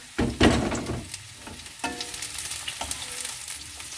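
Oil sizzles and crackles steadily as onion fries for pork bistek, with a few sharper clatters of utensils near the start, close and moderately loud.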